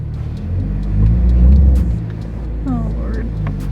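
A 2022 Subaru BRZ fitted with an aftermarket exhaust revs with traction control off, producing a loud, deep rumble that swells to a peak and then settles into a steady idle-like drone.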